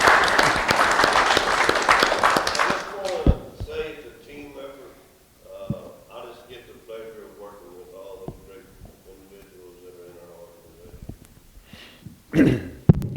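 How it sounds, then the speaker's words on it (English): A crowd applauds for Fire EMS at a community coffee meeting with a city manager, a loud dense burst in the opening seconds that quickly fades, after which speech and scattered coughs take over. "how about a round of applause for Fire EMS again?"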